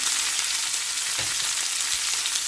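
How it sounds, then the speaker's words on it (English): Vegetables hit a very hot pan with a loud, continuous close sizzle and crackle for a Chinese-style wings dish seasoned with five spice. "So my pan is really hot, and now I'm gonna do is just put my veg. Add all my veg in."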